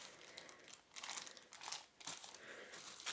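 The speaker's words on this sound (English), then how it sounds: "Let's take them both out and make sure there's nothing else left in the card box packaging." Cardboard box packaging from a TeckNet X300 wireless keyboard and mouse set is handled up close, with soft crinkling and rustling in short bursts and brief pauses, faint and with no voices.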